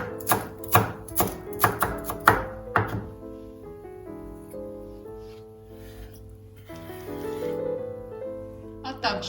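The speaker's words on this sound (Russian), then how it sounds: "Я порежу мелко пару веточек ароматного укропа." A knife chops a couple of dill sprigs finely on a cutting board, a quick series of about eight close, crisp thunks at the start, followed by quieter kitchen sounds and a faint musical tone.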